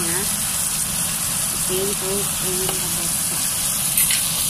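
Beef ribs boiling in a pot for Filipino nilagang baka give a steady, loud bubbling hiss throughout, while a voice speaks briefly over it.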